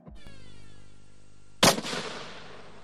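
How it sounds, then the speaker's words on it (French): Metal Storm gun firing 180 bullets at once: a sudden, loud, dense burst that blends into a single ripping roar, then rumbles and decays, after a steady mechanical hum. "Ce monstre d'arme vient de tirer 180 balles en une seule fois"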